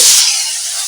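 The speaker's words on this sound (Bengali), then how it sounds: "এটা ভাজা হয়ে গেছে আমি দিয়ে দেব করলা সেদ্ধ" Boiled bitter gourd dropped into hot oil in a pan, a loud sudden burst of hissing sizzle that settles into a steady steam hiss in under a second.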